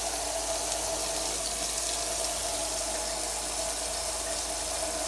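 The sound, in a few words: tap water running into sink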